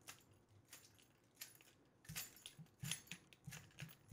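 Keys hanging from a belt jingle as someone walks slowly past in a church setting, making faint metallic clinks in a loose rhythm with footsteps in a very quiet space.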